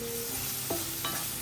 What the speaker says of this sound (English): Heat a little bit oil in a pan over medium-high heat. First, add the mushrooms. Let them cook till they release moisture and start to turn brown.